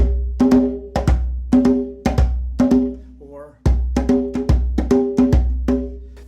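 Djembe hand drum struck on only the loud notes of a samba pattern, spaced slightly unevenly with no filler strokes, close and resonant; a brief gap and a single spoken word interrupt midway before the hits resume.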